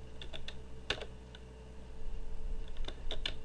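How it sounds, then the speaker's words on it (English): Computer keyboard with the WASD keys being pressed, a few soft quick clicks in small scattered clusters, close but faint over a low background hum, no voices. "I can also use the WASD keystrokes to rotate A and D"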